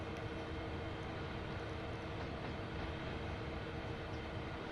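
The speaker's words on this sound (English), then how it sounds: "We have to stop and let this train go past." A freight train carrying containers passes in the Train Sim World 2 video game on the Sand Patch grade, a steady dense rumble and rolling wagon noise heard continuously at low level without talk.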